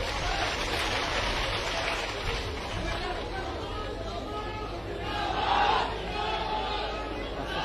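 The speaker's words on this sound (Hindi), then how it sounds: "सभी जोरदार तालियां बजाएं अपने अपने स्थान पर बैठकर।" A large, seated crowd at a rally with Madhya Pradesh Chief Minister Shivraj Singh Chouhan at Garhkundar claps loudly in a continuous, rain-like wash, swelling briefly near the end, with faint shouts and chatter beneath it.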